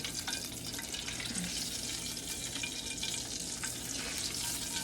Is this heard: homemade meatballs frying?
yes